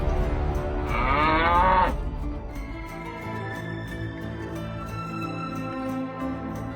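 A cartoon cow lets out one long, loud, drawn-out moo near the start. A quieter farm-field background continues after it fades.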